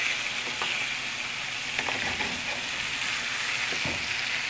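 Steady, dense sizzle of wild caught salmon pan frying at home, a continuous loud hiss with faint scrapes and stirring taps underneath, no voices.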